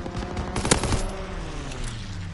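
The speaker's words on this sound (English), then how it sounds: "Fighter pilot inbound. Strafing the target." A WWII fighter aircraft in a video game strafes with a short, rapid burst of machine-gun fire, loud and close, over a steady low engine drone, with no talk.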